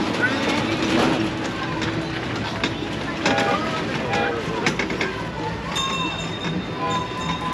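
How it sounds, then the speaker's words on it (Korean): A children's ride train at Mariners Church rolls past with rumbling wheels and clatter, while people talk and a thin whistle-like tone rises toward the end. "교회학교에서는 아이들을 위해 특별한 기차를 운행합니다."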